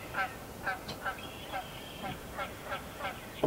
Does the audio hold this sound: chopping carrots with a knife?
no